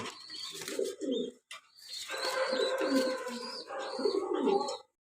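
Pigeons cooing at a market stall selling blue pigeons with eggs and chicks, soft repeated coos over a busy background, with a brief pause in the middle.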